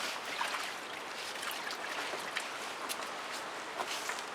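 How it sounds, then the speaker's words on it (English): Hands are rinsed under running water, a continuous soft hiss and splash with small irregular droplet clicks, close but fairly quiet. "after I rinse my hands off"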